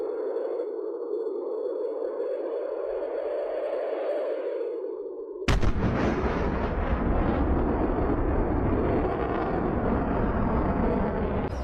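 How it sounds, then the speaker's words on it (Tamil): A Su-57 fighter jet sonic boom: a steady high roar suddenly gives way to a sharp, broad blast that rumbles on loudly for several seconds. "Su-57 fighter jet breaking sound barrier."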